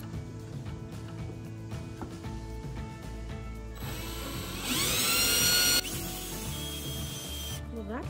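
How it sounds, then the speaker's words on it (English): A power drill whirs steadily while drilling a hole before countersinking, rising in pitch as it spins up, with mechanical clicking and workshop noise around it. "I'm gonna try to drill the hole first and then do the countersinking"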